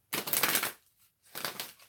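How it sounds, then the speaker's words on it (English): Tarot cards riffle shuffled on a surface, two close, crisp bursts of rapid fluttering card flicks, each about half a second long and separated by a short pause. "That's me shuffling like a riffle or rifle or however you call it, shuffle."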